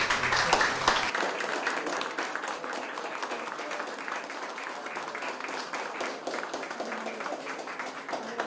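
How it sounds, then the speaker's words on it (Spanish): An audience applauds at an event with Peru's president at a pensioners' centre, the clapping dense and sustained for the whole stretch, with a brief voice at the very start. "pido pues un gran aplauso a todos"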